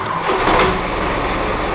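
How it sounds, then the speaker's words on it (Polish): An Ursus 385 tractor diesel engine, freshly repaired injectors, runs with a steady, loud, close rumble throughout, with no voices. "Zapala inaczej!"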